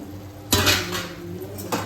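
A lid set onto a cooking pot after tempering with salt and turmeric, making two bright metallic clanks, one near the start and another near the end, over a low steady kitchen hum.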